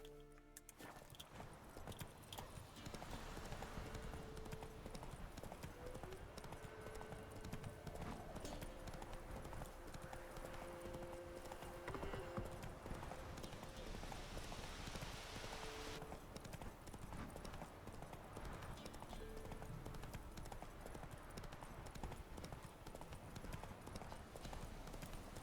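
Roach the horse clip-clops steadily through The Witcher 3, hooves thudding in a continuous even rhythm at moderate volume beneath game music and ambience, with no one talking.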